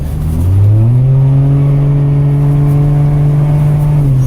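A 2007 Ford Edge SEL Plus with a muffler-delete exhaust accelerates hard, its raw engine drone rising in pitch and then holding a loud, steady roar close by, heard from inside with the windows open.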